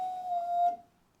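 A steady electric whine hums for under a second, then cuts off and fades, as a Honda Fireblade motorcycle's fuel pump primes.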